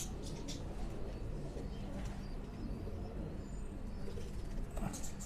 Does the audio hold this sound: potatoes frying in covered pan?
no